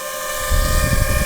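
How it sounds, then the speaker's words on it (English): A DJI FPV drone hovers nearby outdoors under an overcast sky, giving a loud, steady, whiny propeller drone that swells into heavier rumbling about halfway through, with no talking. "This one is kind of loud. It's like a race drone loud, kind of whiny, you know?"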